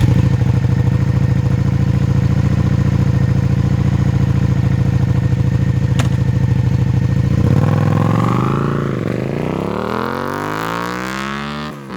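A Suzuki SV650X 90-degree V-twin with an SC Project exhaust burbles steadily at idle, then revs climb and fall in several loud, close sweeps toward the end, with no voices.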